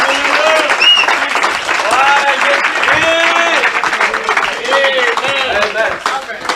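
A church congregation at a French-language sermon applauds loudly and steadily while many voices shout and cheer in praise, a dense, close crowd sound throughout.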